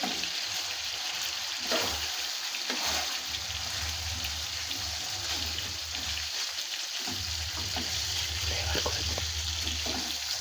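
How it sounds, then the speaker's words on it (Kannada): Curry leaves sputter and fry in hot oil over fish frying in a pan, making a continuous close sizzling hiss with a few sharper crackles and a low rumble underneath. "ಸ್ವಲ್ಪ ಕರಿಬೇವಿನ ಸೊಪ್ಪನ್ನ ಮೇಲೆ ಉದುರಿಸೋಣ. ಅದು ಕೂಡ ಎಣ್ಣೆಲಿ ಸ್ವಲ್ಪ ಫ್ರೈ ಆಗಿ"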